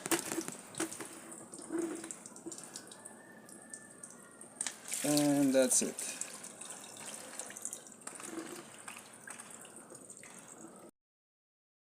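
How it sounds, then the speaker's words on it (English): Water spraying from a cut galvanized pipe during a plumbing repair, a continuous hiss and rush with a louder gushing burst midway; someone speaks briefly. "Water spraying all over the place."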